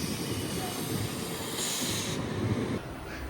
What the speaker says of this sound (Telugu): ఇలాగే క్రూజ్ అవుతూ వెళ్తుంది బండి